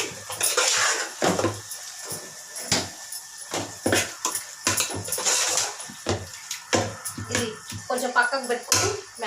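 A spoon clinks and scrapes against a pot while chicken curry is stirred before garam masala goes in, close irregular metallic knocks scattered through, with a person talking over them.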